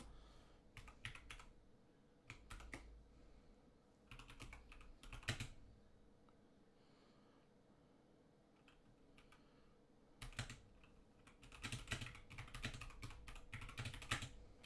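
Bursts of computer keyboard typing, quick clustered clicks in several runs with pauses between, close and fairly quiet, with no talk over them.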